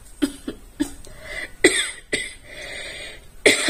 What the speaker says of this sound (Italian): la tosse ogni tanto mi viene